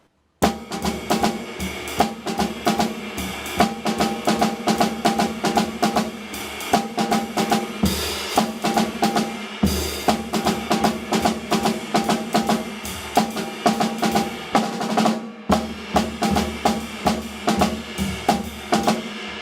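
A drum kit plays a steady, busy pattern of snare and cymbal hits with kick underneath, loud and close, pausing briefly a couple of times.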